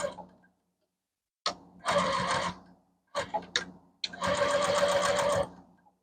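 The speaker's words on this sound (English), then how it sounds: "I'm lining up the edges of the fabric so that I can just stitch across." A new sewing machine runs in two bursts of stitching across fabric layered with batting, a steady mechanical whir with short pauses and clicks between runs, close and fairly loud.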